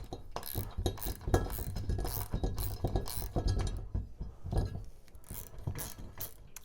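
Wera Zyklop ratchet turning a lag bolt into a kettlebell hook bracket, close metallic clicking and clinking in fast irregular bursts with brief pauses between turns.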